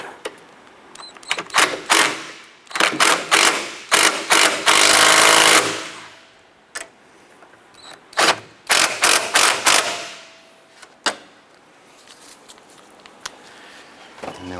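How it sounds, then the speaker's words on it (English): A hand ratchet snugs down the front strut assembly bolts on a 2007-2012 Nissan Versa, giving close, loud bursts of rapid clicking separated by short pauses. "And then we'll snug down that back one with our ratchet."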